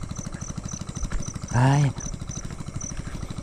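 An engine with its fuel tank filled to run overnight idles steadily with a regular, throbbing pulse, while a person briefly speaks over it.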